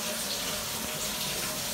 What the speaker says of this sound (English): And then you just run it into the sink, just like that.